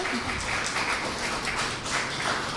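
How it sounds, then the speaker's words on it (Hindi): An audience at a ghazal and shayari poetry gathering claps steadily: a dense, even patter of many hands sustained throughout, fairly close and loud, with no voices over it. "आप सब एक बार फिर तालियां अगर आप अपने लिए बजा देंगे"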